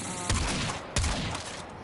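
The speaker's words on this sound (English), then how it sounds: "It's just like a pistol that shoots twice." Bronco pistol in the Warframe video game firing two loud, sharp gunshot bursts about two-thirds of a second apart, each with a booming low-end thump and a brief ringing tail, heard alone without talk.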